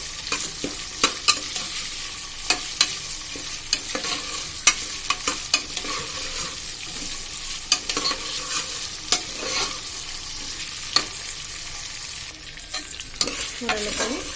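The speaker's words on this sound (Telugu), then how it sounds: "ఇప్పుడు ఇది చక్కగా ఒక 10 మినిట్స్ వేపేస్తున్నాను" Fenugreek lentils frying in a pan, a steady soft sizzle under repeated sharp scrapes and clinks of stirring spread through the clip, fairly close and without talk.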